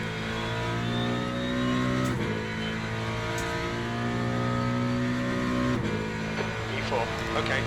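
A Ford Mustang race car engine in the Le Mans Ultimate racing game, a loud steady roar with rising revs and quick dips at gear shifts, heard close throughout.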